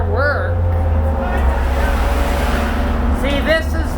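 A 2001 New Flyer D40LF city bus engine drones low and steady from inside the moving bus, with passengers talking over the rumble.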